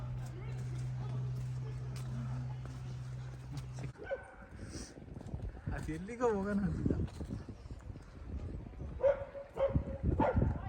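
A dog barks and yips a few times at moderate distance in a UK park, short sharp bursts scattered among rustling and movement, with a person talking at times.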